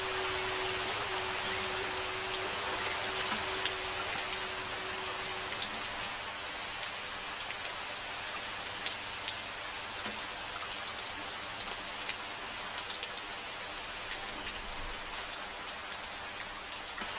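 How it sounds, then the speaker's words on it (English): Steady, even rain pours down without pause, a dense close wash of drops with faint scattered ticks throughout and no voices. "rain has come, even before we have finished sowing the seeds!"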